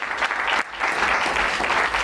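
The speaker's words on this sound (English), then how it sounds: "Another round of applause" Sustained applause from an audience at a farewell gathering for Mr Mhlanga, dense and steady throughout with a brief dip partway, no voices over it.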